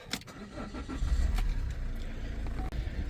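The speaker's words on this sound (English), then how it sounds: "Now I'm gonna start the vehicle." A Chevy Cruze's engine cranks and catches, rising into a steady, fairly close idle rumble that continues for a few seconds after the start.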